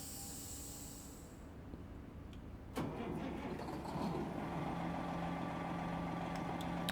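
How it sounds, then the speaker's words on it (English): In American Truck Simulator, a truck engine cranks with a sharp click, then catches and settles into a steady mid-pitched idle over a faint background hum, with no talking. "let's get the engine on."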